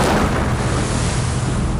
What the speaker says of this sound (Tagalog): Una, inatake ng mga drone ang gusali, sinundan ng putok ng rocket-propelled grenade.